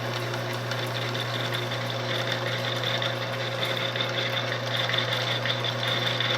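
Metal being cut on a lathe fitted with a milling attachment, feeding vertically: a steady, continuous machine hum with a constant drone and faint cutting noise throughout, no talking.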